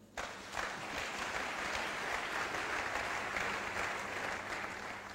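A church congregation bursts into loud, sustained applause that fills the room steadily from start to finish, with no break in the clapping.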